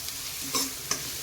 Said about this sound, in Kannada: ಇದನ್ನು ಕೂಡ ಈಗ ಮಿಕ್ಸ್ ಮಾಡ್ಕೊತೇನೆ